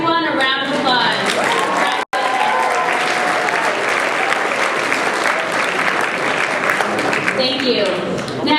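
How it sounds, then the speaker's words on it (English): Loud, sustained applause from an audience at a scholars' event, dense clapping filling the whole stretch with a brief cut near the start, voices mixed in beneath. "Let's give everyone a round of applause."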